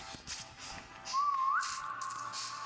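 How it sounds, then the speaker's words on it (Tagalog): A person whistles a short rising tone during a Roblox 3008 game session, a single clear whistle about half a second long over faint game background noise. "Wait, magsipol ka pa, more."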